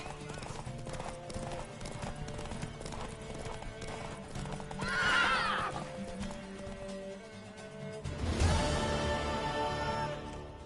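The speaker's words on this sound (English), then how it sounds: "Want that horse, don't ya?" Hooves clop and a horse whinnies loudly in a PS4 video game, with in-game voices speaking over the sounds and a second burst of horse noise near the end.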